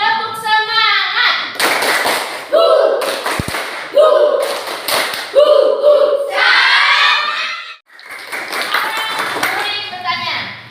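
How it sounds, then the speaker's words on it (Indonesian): A primary class claps out a rhythmic cheer together in a classroom, sharp bursts of group clapping alternating with children's chanted voices in a repeating pattern, loud and close. "kita melakukan tepuk semangat"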